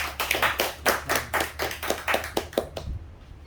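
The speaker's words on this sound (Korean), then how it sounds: "다시 한번 큰 박수로 시작하도록 하겠습니다" An audience at a lecture on the April 19 Revolution and Gwangju, held as a monthly civic-group talk, breaks into applause. The steady, fairly loud clapping runs for about three seconds and then stops abruptly.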